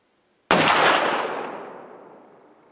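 A single loud, close gunshot from a Thompson Center Impact .50 caliber muzzleloader cracks out of silence, then rolls away in a long, fading boom over about two seconds.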